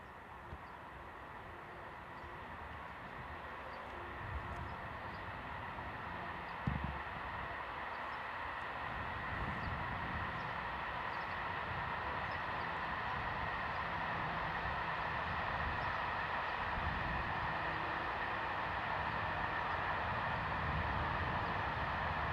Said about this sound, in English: a pair of VFLI 61-300 class Vossloh G1206 diesel locomotives head north with a lengthy engineer's train